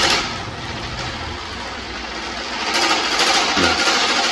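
An electric fan runs close by with a continuous whirring rush that swells louder partway through, with a faint knock near the end.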